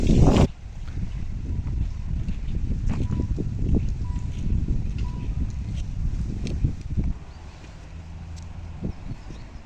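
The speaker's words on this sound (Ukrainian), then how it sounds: "І, до речі, сильний вітер." Strong wind buffets the microphone in a continuous low rumble, with gusts rising and falling throughout.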